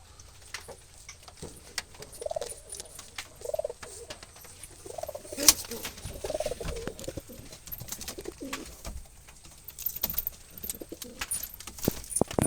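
Wild Jalali pigeons kept in baskets give soft, low coos scattered across a long stretch, faint and partly buried under scratchy rustling, clicks and background clatter, with no talk.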